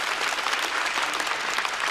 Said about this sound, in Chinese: 掌声送给杨欣